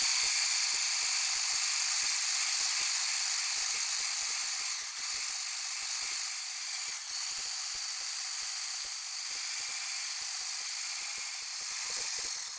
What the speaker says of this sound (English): you want to whisk it up until it's really thick